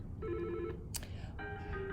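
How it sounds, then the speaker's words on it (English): Ringtone on an Intermax Voice phone: two short, bright electronic tone bursts with a brief click between them, fairly quiet and clear, with no talking. "It gives me the ringtone that's currently active on the phone."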